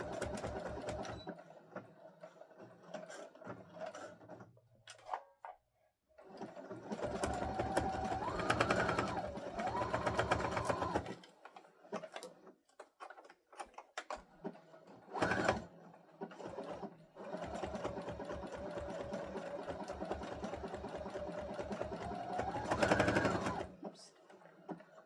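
A sewing machine stitches in several close bursts separated by short pauses, its rhythmic mechanical whir rising and falling as the sewing stops and restarts, with a thread snapping along the way.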